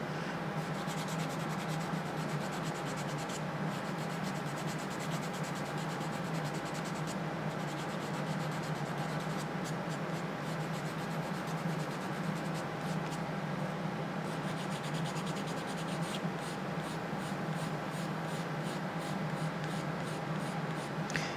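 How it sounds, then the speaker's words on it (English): Steady, close scraping of a file wet sanding excess glue from a plastic shell, rubbing back and forth, continuous and fairly quiet, with no voices. "I'm just sanding to get rid of the glue that kind of overran the hole."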